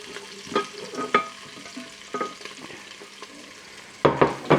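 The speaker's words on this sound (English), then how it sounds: "that lovely sizzle" Chopped onions sizzle in oil in an air fryer basket while being stirred, giving a soft continuous frying hiss punctuated by sharp scraping clicks of the spoon, a louder cluster near the end.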